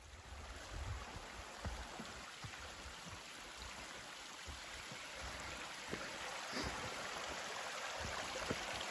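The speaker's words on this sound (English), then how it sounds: "came across this great pipe coming out of the hillside, and Paul is getting some water" Water pours steadily from a pipe emerging from a hillside along a trail, producing a constant, faint, broadband rush with no voices.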